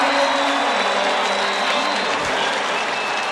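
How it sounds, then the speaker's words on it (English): Loud, sustained crowd applause and cheering at a 1994 NCAA men's lacrosse game between Syracuse and Loyola after a goal, a dense roar filling the whole moment with a commentator's voice faintly underneath. "Crowd rising to their feet as Lockwood scores"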